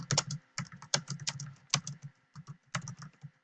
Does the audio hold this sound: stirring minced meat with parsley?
no